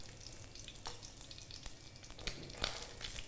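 Bacon crisping in hot fat in a pan, a continuous soft crackling sizzle with sharp scattered pops, strongest near the end, heard close up without any talking.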